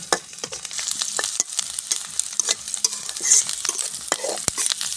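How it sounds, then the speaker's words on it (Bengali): Malabar spinach seeds stir-fried in a pan, a close sizzle with quick rhythmic scraping strokes of the spatula throughout. "পুঁই শাকের ডোগার বিচি ভাজি করা হবে"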